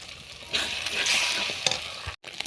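Three eggs scramble in a wok with onion, green chilli and salt, stirred briskly with a spatula: bright sizzling and scraping strokes, fairly close, with a brief sudden silence near the end.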